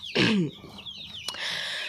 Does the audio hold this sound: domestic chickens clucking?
yes